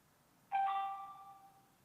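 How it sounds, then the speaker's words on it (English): A Tapo C425 security camera gives a short electronic chime while connecting to a Wi-Fi router, a single clean tone that starts abruptly and fades out slowly in a quiet room. "you'll hear this chime and the camera is connecting to the Wi-Fi router"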